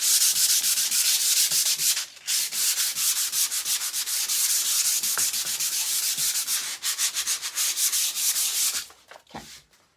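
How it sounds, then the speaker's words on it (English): 320 grit sandpaper rubbing over a painted surface, loud, close and steady back-and-forth scratching strokes, briefly pausing, then trailing off into quieter touches at the end. "You can kind of hear how loud it is, and then I'm just going to sand it."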